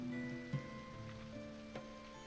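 Soft steady rainfall patters in the medieval colony-survival game Going Medieval, a faint wash of drops under quiet background music with a few light knocks.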